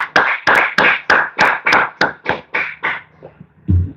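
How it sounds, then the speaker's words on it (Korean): Church congregation clapping in welcome during a Sunday worship service, a steady run of about a dozen loud, evenly spaced claps that thin out and fade near the end. "다 같이 박수로 한번 환영하도록 하겠습니다"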